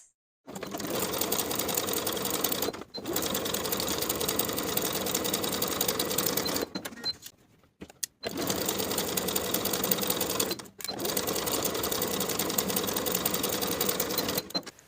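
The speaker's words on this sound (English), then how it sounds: "Sew the side seam from the bottom of the lining pieces across the seam to the bottom of the main piece on both sides with a 1/2 inch seam allowance" A sewing machine stitches the side seams of a dress with lining, running in long steady bursts with brief stops between them, close and even.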